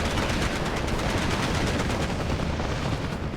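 Continuous machine gun fire in the World War II strategy game Steel Division 2, a loud, dense, unbroken rattle of rapid shots lasting the whole moment with no talk over it.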